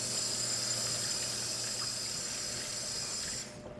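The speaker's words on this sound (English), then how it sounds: "always, always wash your hands afterwards" Running tap water in a home kitchen, a steady close gush over hands being washed after handling raw meat and eggs, constant and fairly loud until it cuts off near the end.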